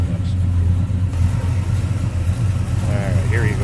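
A 1967 Chevrolet El Camino's rebuilt 327 V8 with Rochester two-barrel carburetion idles smoothly and steadily up close, a loud continuous low rumble throughout with a person speaking over it.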